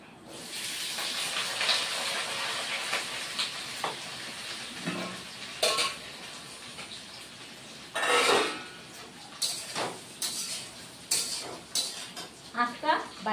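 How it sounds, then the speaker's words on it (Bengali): Fried potatoes tipped into a pan for Bengali aloo posto, giving a steady sizzle with scraping, stirring clatter of a utensil against the pan and a few louder knocks near the end. "বন্ধুরা এবার ভেজে রাখা আলুগুলিও দিয়ে দিচ্ছি।"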